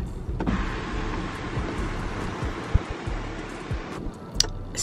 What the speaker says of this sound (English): Open the sunroof, love it.